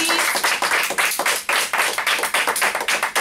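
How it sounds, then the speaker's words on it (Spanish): A studio audience claps for the dads during a Catalan local radio program, producing close, steady applause with a quick, even rhythm and no voices over it. "Un fuerte aplauso para nuestros papis."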